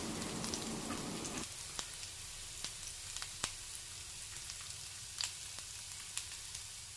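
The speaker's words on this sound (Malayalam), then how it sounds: "ഇഞ്ചി വെളുത്തുള്ളി കട്ട് ചെയ്ത് വെച്ചത് ആദ്യം ഇട്ട് കൊടുക്കാം." Chopped ginger and garlic fry in oil, giving a steady faint sizzle with occasional light ticks and scrapes of a spoon stirring in the pan.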